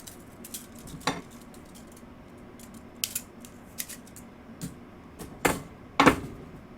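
A tool stirring yellow paint in a small container makes scattered sharp clicks and scrapes, irregular and fairly close, with a few louder taps near the end and no talking.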